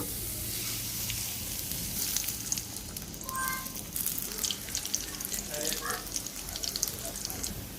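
Onion and garlic frying in oil on a stove crackle with a moderate sizzle, broken by scattered clicks and light clatter from the cookware.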